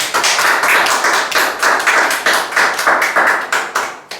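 A church congregation claps in steady rhythm as worship begins, about three claps per second, loud and close-sounding, with no talk over it.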